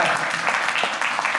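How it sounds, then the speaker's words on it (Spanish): A brief burst of congregation applause at an evening Catholic religious course session, clapping heard up close and fairly loud with a few sharper individual claps. "Le damos un aplauso a la Sagrada Escritura en esta noche, fuerte el aplauso"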